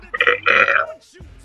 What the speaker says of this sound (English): That was half burp, half just dying out.